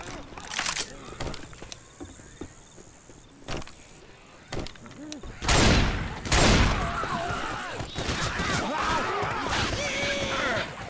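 Rapid gunfire in the co-op zombie shooter Left 4 Dead 2, with bursts of automatic shots and sharp single cracks, a couple of heavy booming blasts midway, under game sounds and character voices calling out.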